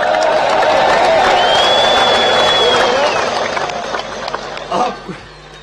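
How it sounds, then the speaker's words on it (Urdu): Large crowd at a prime minister's outdoor political rally in Jamrud claps and cheers in a loud, dense wash of applause that swells and then thins toward the end. "آپ نے اس کے اوپر اتنی کم تالی بجائی ہے۔"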